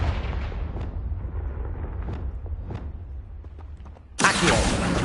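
A Confringo blasting curse in the video game Hogwarts Legacy: a low, rumbling magical roar that fades, then a sudden loud, bright explosive burst that holds near the end.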